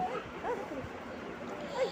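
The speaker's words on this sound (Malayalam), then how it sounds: "നമ്മളെ നായ്ക്കുട്ടി നമ്മളെ കണ്ടപ്പോൾ വന്നിട്ടുണ്ട്" A puppy gives a couple of short, high yips, one early and one near the end, over a quiet background with faint talk.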